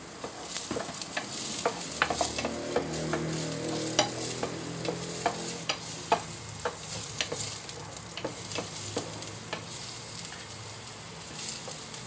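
Garlic and onions sauté in a pan for tofu sinigang, a steady close sizzle of frying with frequent scraping stir strokes and clinks throughout, no voices.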